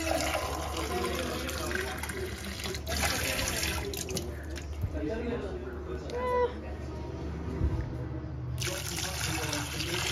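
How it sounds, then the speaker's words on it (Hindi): Water poured steadily into a cooking pot holding peeled, chopped vegetables, a continuous close splashing fill that runs throughout with a voice at times. "गाइस हमें इस पॉइंट तक डालना है पानी। अब मैं डालते रहूँगा पानी।"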